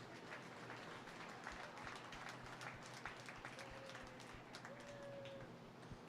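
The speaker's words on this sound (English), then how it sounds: "Please join me in giving them all one big round of applause" Audience applause at the Dodge County Fair junior britches show, a steady wash of many hands clapping, faint and somewhat distant, continuing evenly throughout.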